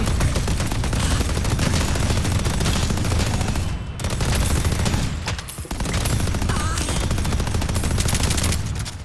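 A turret in Deadlock fires continuous rapid bursts, dense and loud across nine seconds with two brief dips in the barrage, mixed with other game action.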